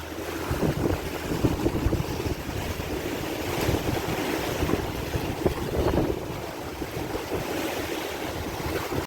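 Sea waves wash steadily onto a beach in Krabi, Thailand, a continuous broadband surf with gusts of wind buffeting the microphone and no speech.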